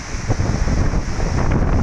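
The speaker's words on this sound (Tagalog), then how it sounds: "Ang lakas ng hangin!" Strong wind buffeting the microphone, a loud continuous roar with gusty fluctuations and no voices.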